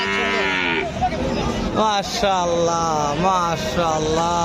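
Several bull calves at a cattle market in Joypurhat moo and bleat repeatedly, their calls overlapping at close range over a busy, noisy background.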